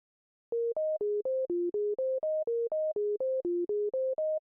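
An Arturia Pigments 6 synthesizer plays a one-bar, eight-step sequence that loops twice. Short, clean, evenly spaced notes hop between a few pitches in a steady rhythm, heard alone against silence.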